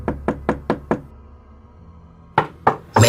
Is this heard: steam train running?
no